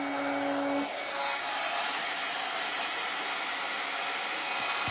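A handheld craft heat dryer blows steadily over deli paper art, a continuous airy whir that holds its level throughout with no talking.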